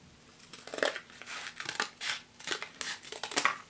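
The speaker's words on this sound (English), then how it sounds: "I'm gonna cut this in half." Scissors snipping through a cardboard container to cut it in half, a series of close, crisp crunching cuts in irregular rhythm, about six strokes with short pauses between.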